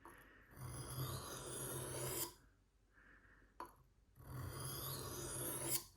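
A knife blade rasps against a wet whetstone in long, even strokes, two scraping passes separated by a short pause with a faint clink, close and clear.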